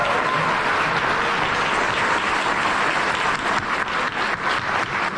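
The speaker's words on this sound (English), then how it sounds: "Give them all a huge round of applause." Applause from a large audience at the 2023 Housewares Charity Foundation gala: dense, sustained clapping that fills the room and stays strong for several seconds without any talking.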